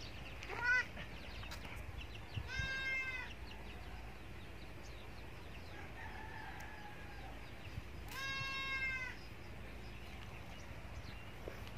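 A small goat, under ten kilos, bleats twice while being injected with vitamin ADE, two wavering cries a few seconds apart over steady rural background noise.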